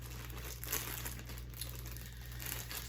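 Paper crinkling as an unboxing subscription box is handled, a steady close rustle running throughout with slightly louder crunches near the start and end, over a low constant hum.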